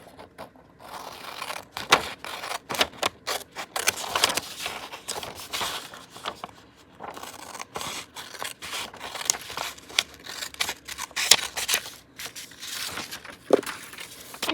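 Paper being trimmed with scissors during a craft session, a steady run of soft snipping and crisp paper rustles with small clicks, close up and with no voices.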